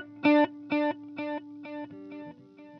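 Guitar note repeating through a TC Electronic Triple Delay pedal on quarter-note triplet timing, six quick evenly spaced echoes that fade gradually, with a second pitch joining late, no voices.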